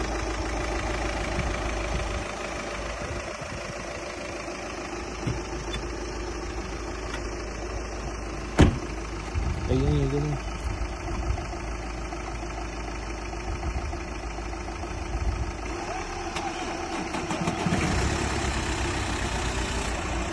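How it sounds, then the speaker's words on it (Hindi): A car engine idles steadily for about twenty seconds after being jump-started with jumper cables, a constant low rumble with no talk and one brief knock partway through. "और ये गाड़ी आपने देख ली, ये गाड़ी अब स्टार्ट हो गई है।"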